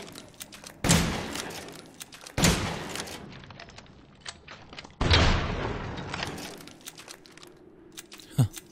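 A shotgun fires in the video game Resident Evil Village: three heavy, loud blasts spaced a couple of seconds apart, each trailing off in a long rumbling decay, followed by a smaller thud near the end.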